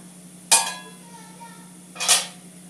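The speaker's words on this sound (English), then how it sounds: "So on high flame, we'll keep stirring." Watercress seed laddu mixture stirred in a pan over high flame, two separate clattering scrapes of a spoon against the pan about a second and a half apart, close and fairly loud over a low steady hum.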